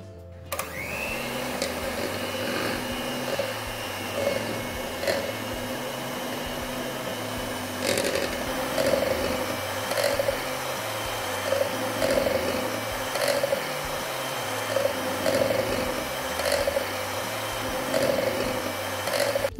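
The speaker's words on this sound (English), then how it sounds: "Now let's take the butter and beat it well for a minute." An electric mixer whirs steadily while beating butter for a red velvet cake, a continuous motor drone with regular soft knocks as the beaters touch the bowl.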